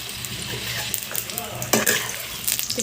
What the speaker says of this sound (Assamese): তেলখিনি পকি গৈছে তাৰপিছত মই এতিয়া দিম বগৰীখিনি